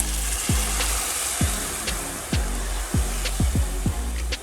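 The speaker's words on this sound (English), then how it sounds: "Let that simmer." Beef mince and stock simmer in a pan, giving a steady close sizzle with soft bubbling broken by several scraping stirs at irregular intervals.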